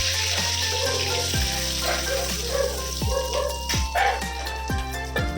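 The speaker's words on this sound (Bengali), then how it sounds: "ওই কড়াই ওই তেলের মধ্যে আমি 2টো তেজপাতা দিয়ে দিচ্ছি," Two bay leaves and cumin seeds sizzle in hot oil left in a kadai after potatoes were fried, a soft crackling fry that runs under loud rhythmic background music.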